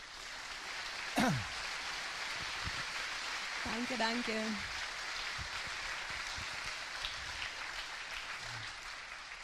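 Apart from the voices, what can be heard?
audience applause for an astronaut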